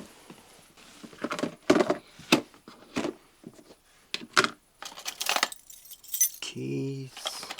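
A bunch of keys rattled and clinked while someone rummages for a padlock, with irregular bright jangles and handling knocks close by, ending in a short scraping rattle.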